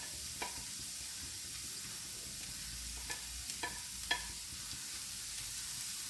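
Mixed vegetables stir-frying in a hot pan give a steady, quiet sizzle, with a few scattered scrapes and clicks of the spatula standing out along the way.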